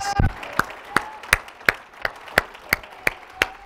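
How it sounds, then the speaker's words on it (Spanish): Rhythmic hand clapping at a midnight church worship service, about three claps per second, sharp and even, with a brief voice at the very start. "Denle un fuerte aplauso a nuestro Dios."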